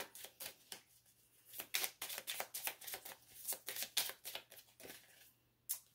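Oracle cards from an Alice's Romance Oracle deck riffled and shuffled by hand, then drawn, in a quick run of crisp papery flutters and slaps close by, with no talk.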